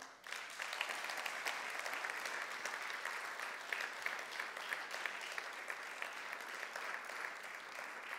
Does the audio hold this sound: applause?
yes